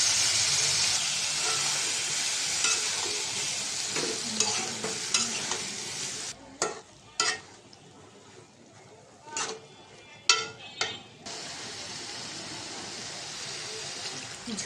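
Eggplant and tomato frying in a pan for a potato-eggplant-egg curry, a loud continuous sizzle with stirring scrapes, then quieter intermittent clatters and hisses.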